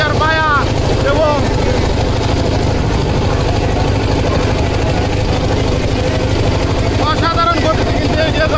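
A loud, continuous motor drone comes from a racing boat in a boat race, steady throughout without a pause, while a commentator talks over it.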